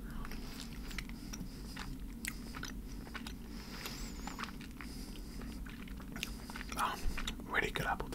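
Close, soft chewing of Sour Patch gummy sweets, with sticky, squishy bites and small smacks over a low steady hum and a few louder mouth sounds near the end.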